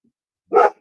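A single short dog bark, close and fairly loud, followed by the start of another.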